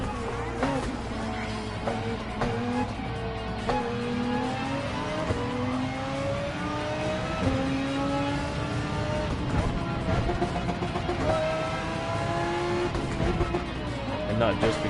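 Audi Quattro GR3 race car engine in a PS4 racing game, revving hard through repeated upshifts with a rising, climbing whine on each gear, steady and close for the full stretch, with faint tire noise.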